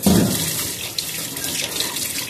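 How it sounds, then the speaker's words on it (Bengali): Cold tap water runs steadily into a sink while boiled dried fish is rinsed, a continuous close splashing hiss with no talk. "এবার ঠান্ডা জলে ভালো করে ধোবো"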